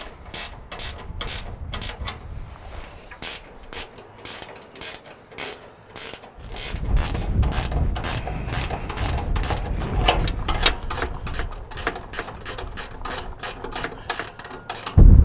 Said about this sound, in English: We're going to go ahead and bolt it down to the bracket.